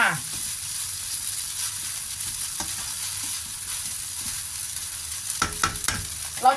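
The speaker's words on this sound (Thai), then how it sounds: "ผัดให้สุกเลยนะคะ ผัดให้สุกจ้าขาวสุกเลยอ่ะ ผัดให้สุกเลยจ้า" Food being stir-fried in a hot pan, with a steady bright sizzle throughout. A few louder scrapes and clatters of the utensil come near the end.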